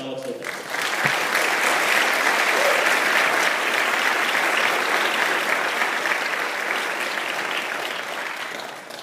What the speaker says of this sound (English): can everyone please give me a warm round of applause for Alex Loquet